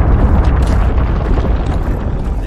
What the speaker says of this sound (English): Those explosions are definitely getting closer.